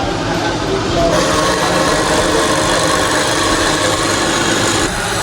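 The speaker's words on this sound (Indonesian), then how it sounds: "di sini saya akan melakukan pengecekan RPM pada pompa rotari atau roda gigi" A rotary gear pump running at roughly 1400 to 1600 RPM, giving a loud, steady mechanical roar with a dense rattling texture and no breaks.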